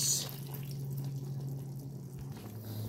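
Soy sauce trickling into a pot of simmering native chicken adobo, a soft steady liquid pour with light dripping over a low constant hum, heard alone.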